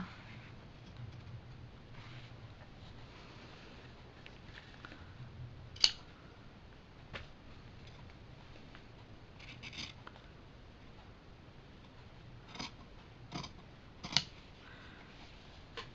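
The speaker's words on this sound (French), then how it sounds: "Désolée pour le bruit des ciseaux" Quiet, sporadic snips of scissors cutting fabric, a few sharp crisp clicks spaced irregularly over a soft background.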